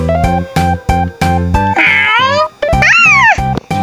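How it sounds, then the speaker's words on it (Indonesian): A cat meows in the Avatar World mobile game, two loud drawn-out meows standing out over a loud, rhythmic game music loop. "Garong itu mah suara kucing garong."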